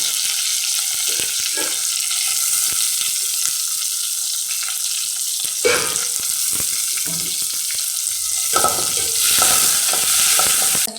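Curry leaves and garlic sizzling in hot oil for a Kannur-style pomegranate curry, with a loud, steady frying hiss and intermittent stirring clatters from a spoon against the pan, no talking.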